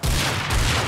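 Gunshots in the survival game Rust during a base raid, a dense, loud, continuous roar of firing filling the whole moment with no talk over it.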